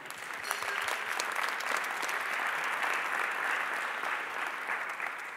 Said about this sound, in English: I hope you'll join me with a round of applause for our first panel, please.